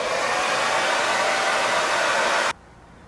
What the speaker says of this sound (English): Don't rush the hair drying.